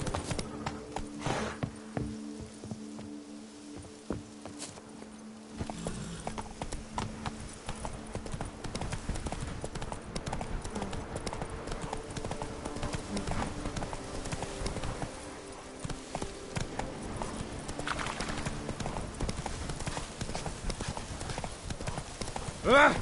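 Geralt's horse Roach from the Witcher 3 video game, hooves clip-clopping in a fast, rhythmic gallop throughout, close and loud, with occasional snorts and a voice speaking over it.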